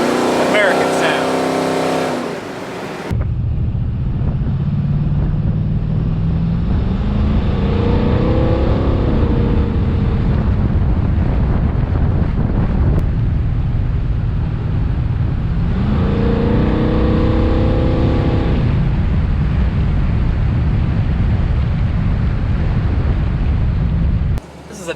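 A 1965 Buick Gran Sport with a big block engine and race option idles loudly and revs in long rising swells, a steady heavy rumble throughout, with a brief different sound at the start.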